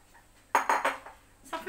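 A lid clanks back onto a cooking pot of Moroccan beef trotters with chickpeas and raisins, a sharp metallic clatter followed by a few rattling settles, close and alone.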